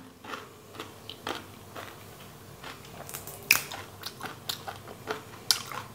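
Close, soft chewing of fresh giant oysters with condiments, a quiet series of wet squishes and small crunchy bites with occasional sharper clicks.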